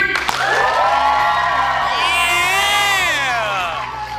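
A crowd cheers and whoops for students, with high excited yells and shouting children's voices rising over a steady roar of applause, sustained loudly throughout.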